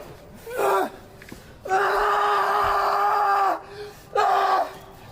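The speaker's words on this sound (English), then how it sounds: "Jaxson screaming at the top of his lungs, the amount of agony, the amount of pain that he is in" A wrestler at a live pro wrestling event screams in agony over an injured hand: three loud, strained cries, short then long then short, over a faint crowd murmur.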